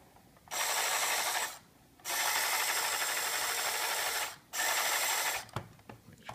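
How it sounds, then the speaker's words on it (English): Vintage 1980 Star Wars Snowspeeder toy with its motor running in three whirring buzzing bursts with brief gaps, close and moderately loud, ending in a few clicks and handling sounds. "It's working. It's got a pretty strong motor."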